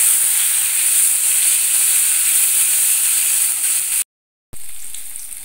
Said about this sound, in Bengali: তাই গ্যাসের ফ্লেমটাকে লোতে রেখে বেগুনগুলোকে দিয়ে দিলাম কড়াইয়ের মধ্যে।